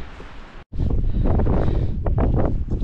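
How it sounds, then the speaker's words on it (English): Strong wind buffets the microphone in a loud, continuous roar on the trail to Clingmans Dome, broken by a brief dropout near the start, with no voices. "It's getting really windy."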